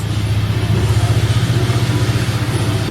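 A 3.8 GDI V6 turbo engine runs on a dyno, a loud, close, steady idle with a strong low pulsing throb and a rhythmic exhaust beat that holds evenly throughout.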